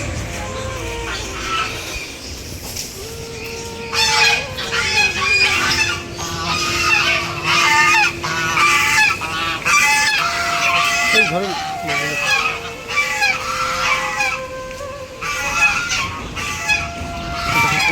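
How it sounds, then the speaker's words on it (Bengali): Geese honk loudly and repeatedly on a park pond, the calls coming in clustered bursts close by, with a brief spoken word among them. "পুকুর, এই পুকুরে চড়ে এই রাজহাঁসগুলো।"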